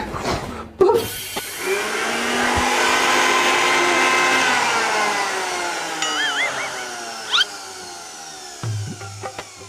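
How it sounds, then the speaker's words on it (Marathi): A kitchen mixer grinder starts up and runs with a steady, high whirring whine that gradually slows, then stops near the end. "मग मिक्सर चालू करा की"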